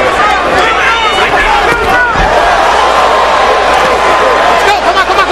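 A boxing arena crowd roars and buzzes steadily at a Zab Judah versus Cory Spinks fight, a loud, continuous wash of cheering with a commentator talking over it.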